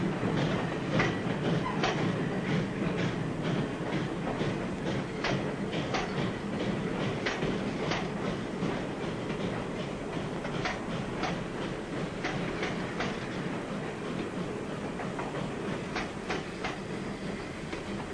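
A passenger train running on rails gives a continuous rumbling roll with regular clickety-clack wheel beats, steady and fairly close, with no speech over it.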